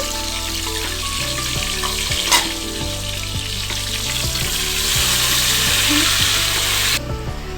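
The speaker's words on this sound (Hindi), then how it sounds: "अब हम इसमें टमाटर डाल देंगे और सब्ज मिर्चें और मिक्स कर लेंगे।" Tomatoes and green chillies frying in a pan for dhaba-style dal chawal, a loud continuous sizzle with a spoon knock near the start, over a steady background hum, with no one talking.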